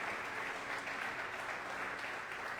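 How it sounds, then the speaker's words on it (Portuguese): A church congregation applauds together in a steady, full wash of clapping that holds at an even level throughout, with no talk over it. "Você pode aplaudir o Senhor?"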